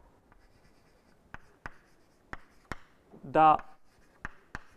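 Chalk or marker writing on a board during a lecture on Hermitian matrices: a series of sharp taps and short strokes spaced irregularly, with a brief spoken word in the middle.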